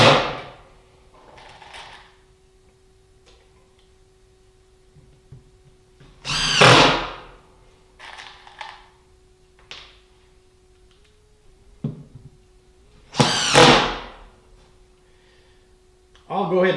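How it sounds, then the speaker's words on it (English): Screws being driven to fix a plywood bottom onto a large movable storage unit, with two loud bursts of power tool whirring separated by quiet gaps, light knocks and handling clatter, plus a steady faint hum underneath. "Here I'm just putting the bottom on with screws."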